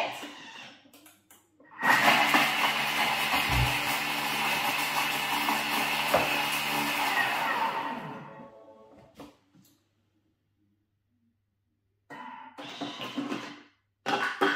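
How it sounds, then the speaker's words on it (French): A Thermomix blends a Caesar salad dressing with lemon at speed 7 for five seconds, a loud, steady motor whir lasting several seconds that cuts off abruptly, followed by quiet handling noises. "je vais mettre ça dans mon Thermomix, je referme avec mon gobelet et là, je vais mixer 5 secondes, vitesse 7"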